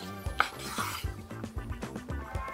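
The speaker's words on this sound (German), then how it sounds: "Und jetzt halbiere ich die Vierteln der Rolle, sodass man perfekte kleine Makis hat." Knife slicing through a vegan sushi maki roll: a quiet sequence of short, rhythmic cutting and tapping strokes against a board, about six in quick succession.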